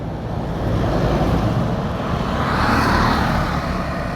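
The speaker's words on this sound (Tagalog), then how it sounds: "Dahil uh, maingay dito guys, maraming sasakyan." Steady, loud road traffic roar from many passing vehicles, with wind buffeting the microphone, continuous across the whole stretch with no speech.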